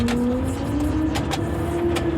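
A Komatsu GD 535-5 articulated motor grader works a curve while spreading stone dust. Its engine runs as a steady loud drone with a rising whine, and faint clanks from the blade and frame come through now and then.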